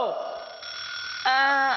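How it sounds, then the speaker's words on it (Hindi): An alarm clock rings in the morning in a Hindi-dubbed cartoon, a shrill, continuous electronic ringing that grows louder in its final half-second as a wavering voice cries out over it. "अरे सुबह सुबह ये अलार्म क्यों बजने लगा?"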